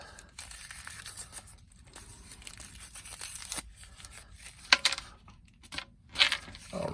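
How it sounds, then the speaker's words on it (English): Cardboard and plastic packaging of a Transformers Legacy Minerva action figure being ripped open up close, a run of tearing and crinkling bursts with a couple of sharper snaps near the end, no talking. "All right, so rip this guy open."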